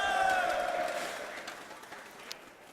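Crowd at a League of Legends esports match in an arena, a swell of cheering and whoops that fades gradually over a few seconds, heard from a distance.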